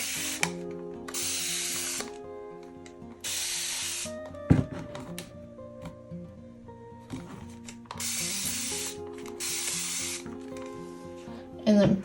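Repeated bursts of a spray bottle misting water onto watercolor paper, two quick pumps at a time, hissing over a quiet background hum with occasional light taps and clicks.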